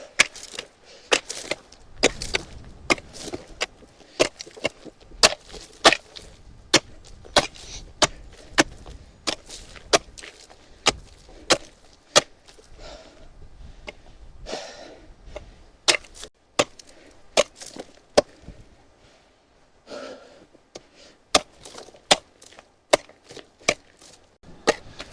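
Someone digging chalk with Neolithic-style tools makes sharp, irregular knocking and scraping strikes, one after another at close range, with quiet gaps between bursts and no talking.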